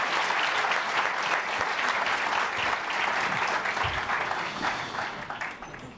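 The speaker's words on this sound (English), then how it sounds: "How about a round of applause for our panel?" An audience at the Ignite Buffalo Finals gives a panel a hearty round of applause, a broad wash of clapping that holds strong before tapering slightly toward the end.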